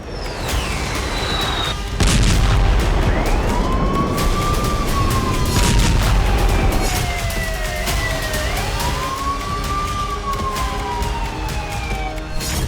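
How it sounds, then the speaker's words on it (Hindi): A warning siren wails at night in slow rising and falling sweeps during the Russia-Ukraine war, heard from a distance over a constant rumbling background with occasional bursts of noise. "थर्राती रात और डराती सायरन की आवाज"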